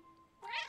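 A cat in the video game Cat Quest gives one short, fairly quiet meow in the second half of the clip after a faint background tone.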